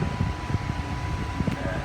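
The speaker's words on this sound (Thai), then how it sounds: "ก็ฟังเสียงแอร์นะฮะ" An air conditioner running on a solar power setup, a steady close whooshing fan hum with a faint tonal whine and a few low knocks throughout.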